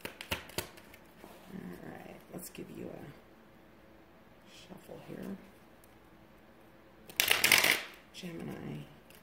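Tarot cards being shuffled by hand, quick riffling bursts and soft card slaps scattered over several seconds, with one louder burst near the end.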